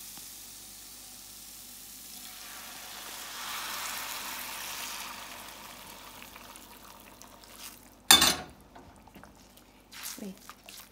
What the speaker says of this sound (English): I'm gonna add some water into the pot